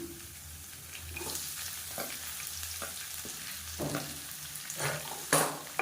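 Garlic and sliced onion sautéing in a pan for a chicken dish, a continuous close sizzle broken by repeated scraping stirs, growing a little louder toward the end, with no voices.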